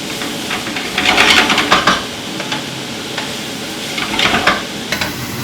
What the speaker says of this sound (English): We're going to cook the vegetables nicely.